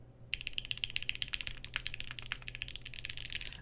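A top-mount MODE SixtyFive mechanical keyboard being typed on alone, a quick, close run of crisp clacky keystrokes in an uneven rhythm, with faint low hum beneath.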